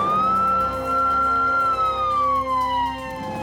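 A siren-style predator call blares loudly from an electronic caller in the Utah outdoors, a sustained wailing tone that rises and slowly falls, with layered harmonics, continuous for the whole stretch and no voices.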